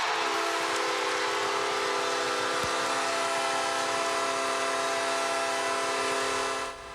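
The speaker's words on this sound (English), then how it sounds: "Don't you love the train horn?" A train horn sounds in a long, steady, sustained blast over rumbling background noise, holding at an even level before fading briefly at the end.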